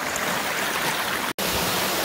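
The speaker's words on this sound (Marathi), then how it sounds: "एकदम छोटंसं आहे पण भारी आहे वॉटरफॉल आहे बघा" A small waterfall gives a close, steady, dense rush of falling water, broken by one brief dropout.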